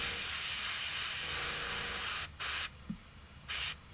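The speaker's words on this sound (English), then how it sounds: "the airbrush is working, this would be perfect" An airbrush spraying paint onto Warhammer 40k Kill Team miniatures gives a loud continuous close hiss that cuts out briefly twice, then restarts in short bursts, with no speech.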